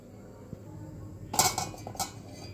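A spoon or whisk beats yogurt batter with a pinch of asafoetida in a bowl, making a short burst of close metallic clinks and scrapes after a quiet start.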